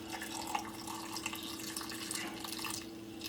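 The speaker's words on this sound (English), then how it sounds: "we're going to pour this into our jars" Salt brine for fermented pickles is poured into jars, a soft, continuous trickle and splash of liquid heard faintly and close, with no talking.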